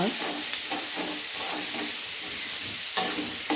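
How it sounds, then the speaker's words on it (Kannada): Medium-cut chopped onion fries in hot oil in a pan, giving a continuous loud sizzle with scraping stirs and small bursts of crackle throughout. "ಎಣ್ಣೆಯಲ್ಲಿ ಒಂಚೂರು ಫ್ರೈ ಮಾಡ್ಕೊಳ್ಳೋದು ನೋಡಿ ನೀರುಳ್ಳಿ ಸ್ವಲ್ಪ ಫ್ರೈ ಆಗಿದೆ"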